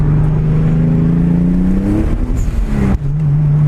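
A Toyota Supra MK4 with a sequential twin-turbo engine revs hard on a wet track, a loud continuous engine note climbing in pitch, then dropping sharply at a gear change before settling into a steady drone.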